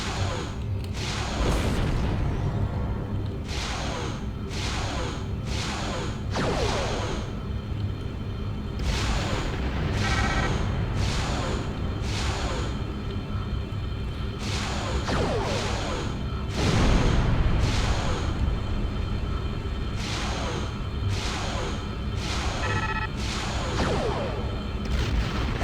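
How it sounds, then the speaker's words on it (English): Repeated explosions and booming weapon fire hit a starship under attack in the space game Star Trek Online, loud bursts recurring every second or so over a steady low rumble for the whole stretch. "Warning. Ship is under attack."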